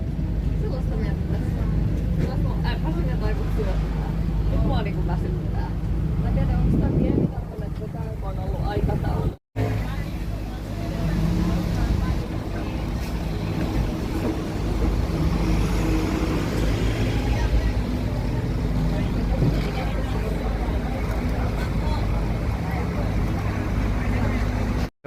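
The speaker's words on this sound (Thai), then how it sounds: "นี่คือเรือของบุญสิริครับ เป็นเรือคาตามาลาน" Loud, steady rumble of a high-speed catamaran ferry's engines with rushing water, a voice talking in Thai over the drone throughout.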